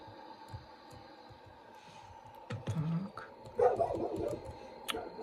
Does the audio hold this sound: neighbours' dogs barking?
yes